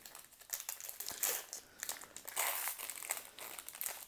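A Pokémon Astres Radieux booster pack's foil wrapper crinkles and crackles up close as it is torn open, bursts of rustling rising and falling over about four seconds with no one talking.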